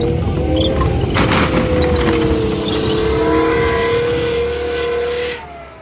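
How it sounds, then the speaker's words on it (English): A car being crushed by a machine at a car crush event, a loud continuous mechanical grinding and engine rumble lasting several seconds before cutting off, with no talk over it. "That was a lovely crush."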